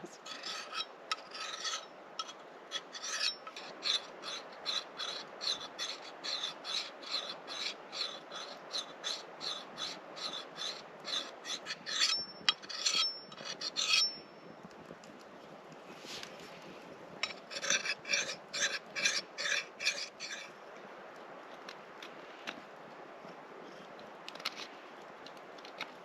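An axe is sharpened by hand with a file outdoors in a forest bushcraft camp, giving long runs of rhythmic rasping strokes, steady and close, with a short pause midway before the strokes resume.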